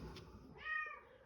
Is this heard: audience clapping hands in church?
no